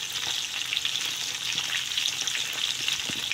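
Chicken wings frying in a pan for lemon honey garlic wings, a constant bright crackling sizzle at moderate level with a few small pops, no talking.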